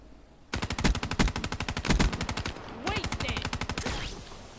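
Rapid, loud automatic fire from a Tempest weapon in a first-person shooter video game, sounding in two long sustained bursts with a brief pause between them.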